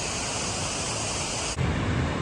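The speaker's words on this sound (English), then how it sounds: "this is a much better waterfall" Lower Eagle Falls near Lake Tahoe pours in a steady, loud broadband roar of falling water, continuous and close, swelling slightly louder partway through with no voices over it.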